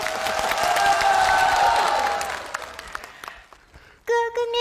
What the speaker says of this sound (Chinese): 大爷，给你鼓掌。